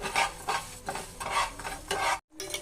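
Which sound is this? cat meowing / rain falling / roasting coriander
roasting coriander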